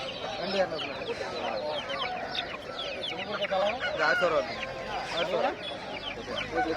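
Chickens and small chicks at a busy country poultry market for desi breeds, with continuous clucking and chirping at close range and crowd voices talking underneath throughout.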